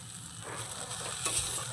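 A frying filling with chopped coriander leaves is stirred in a pan, giving a soft close sizzle with light scraping and stirring sounds, no voices.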